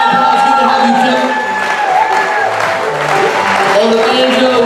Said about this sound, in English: Give Kevin Stewart a round of applause